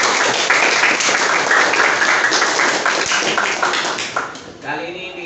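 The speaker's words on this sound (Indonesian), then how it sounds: "Minta tepuk tangan yang mana dong?" Seventh-grade students in a school studio clap their hands together in a loud, continuous burst that tapers off near the end, as a voice begins to speak.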